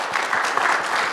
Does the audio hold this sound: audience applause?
yes